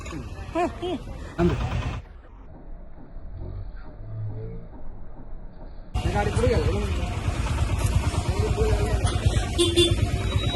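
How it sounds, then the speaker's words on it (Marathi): A car pulls up to collect a Ganesh idol for the festival, its engine and horn toots swelling loudly after a quieter stretch, with people talking over it. "आपल्याला गाडी आली गणपती घ्यायला"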